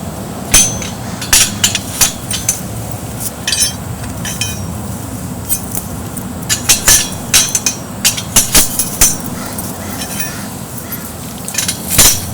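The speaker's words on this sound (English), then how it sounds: "Get the paddles, always start at the bottom, inserting the paddles." Steel target paddles sliding into a steel frame, a series of sharp metallic clanks and clinks at irregular intervals over a low background rumble.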